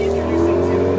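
A Ford Fiesta driving along, its engine giving a steady, close drone with a firm low hum that stays even throughout one second.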